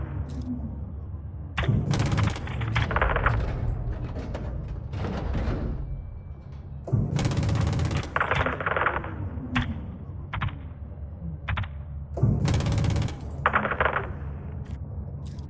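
Heavy 25mm cannon fire from a gunship in Call of Duty: Modern Warfare II, loud broadband bursts arriving in several separate volleys with short pauses between them, booming and crackling over a low rumbling engine drone.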